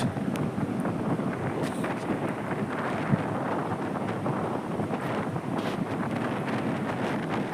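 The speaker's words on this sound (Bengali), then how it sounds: "সঙ্গে সমুদ্রের যে গর্জন আর সমুদ্রের হাওয়ার একটা আওয়াজ, সব মিলিয়ে মিশে একটা বেশ মোহময় পরিবেশ" Steady sea roar mixed with blustery wind on the beach at New Digha, a continuous broadband rush with gusts buffeting the microphone and no voices.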